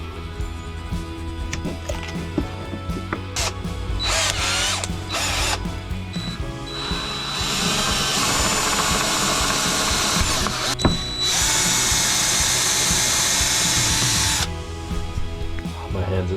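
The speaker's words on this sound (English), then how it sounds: "Hole saw. So much better than drill bit." A hole saw bores through wood for a DIY electric bed build in a van, cutting in a steady grinding whir that runs for long stretches at close range, with short pauses and brief handling noises between passes.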